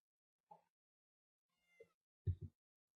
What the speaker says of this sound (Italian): Ma che cos'era un gatto?